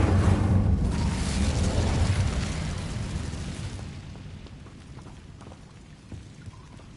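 Incendio fire spell from the Hogwarts Legacy video game, a loud roaring, crackling whoosh of flame that is strongest at the start, then fades into a low, sputtering crackle over several seconds.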